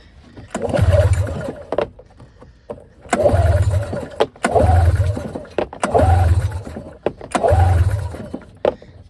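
A Bearcat engine starts and runs in five loud, roaring bursts of a couple of seconds each, separated by short quiet pauses, heard close up with no talk.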